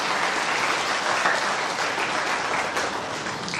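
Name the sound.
audience applause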